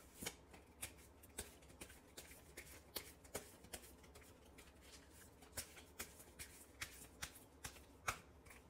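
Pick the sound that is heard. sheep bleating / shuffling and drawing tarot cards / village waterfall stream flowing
shuffling and drawing tarot cards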